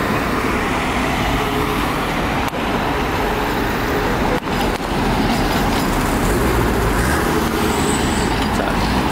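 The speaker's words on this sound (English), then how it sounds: "That was an army truck there." An army truck passes along a road, a broad, steady rumble of heavy traffic noise dominating throughout, fairly loud with no clear rise or fall.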